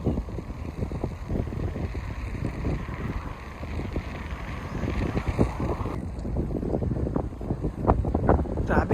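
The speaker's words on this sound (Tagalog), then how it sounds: "Grabe, lakas ng hangin." Strong gusts of wind buffet the microphone in an overcast park, a loud continuous roaring rumble with bursts of harder blasts, no talk.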